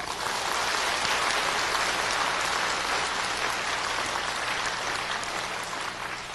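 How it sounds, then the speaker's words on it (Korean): Church congregation applauding in a sustained, dense wash of clapping that holds steady throughout, loud and close with no talk over it. "박수!"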